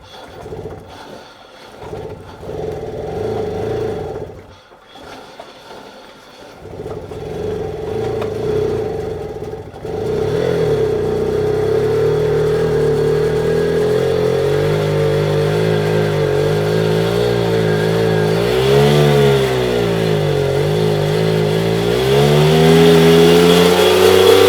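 A Mobylette moped on choke sputters and catches after a few tries, then its small engine runs on with a rising, buzzing drone, the revs swelling and dipping before climbing louder near the end, with no voices.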